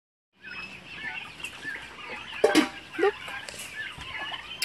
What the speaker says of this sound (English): So many chicken and so many turkeys.